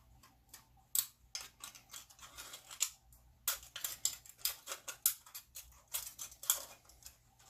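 Scissors snip through a thin aluminum can while a penny can stove is being made, giving a rapid series of sharp, close cuts and crinkles in an irregular rhythm with no talk.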